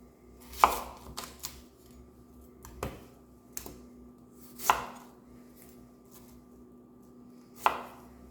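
An onion is chopped for chili: sparse, sharp knife strikes on a cutting board, a few spaced seconds apart, crisp and close with quiet gaps between.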